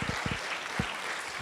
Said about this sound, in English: Give Sammy and Vaz a big round of applause